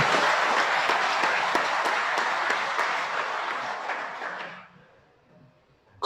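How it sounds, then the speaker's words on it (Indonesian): Applause breaks out from an audience at an Islamic religious lecture, a dense steady clapping wash that holds for about four and a half seconds, then fades out into near quiet. "Kenapa jadi tepuk tangan begitu?"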